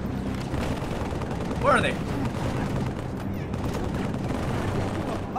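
Gunfire from a mounted gun in Halo 3 rattles away in steady bursts under a busy battle din, with a voice speaking briefly over the shooting.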